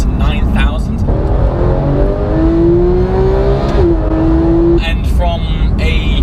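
A Porsche GT3 with a naturally aspirated 3.8-litre flat-six revs loud and close, its pitch climbing steadily and then dipping, while someone talks over the engine.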